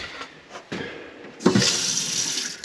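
Water runs from the tap into a small sink in a boat's forward head, starting with a few brief splashes and then settling into a steady, close hiss of flowing water that keeps going to the end.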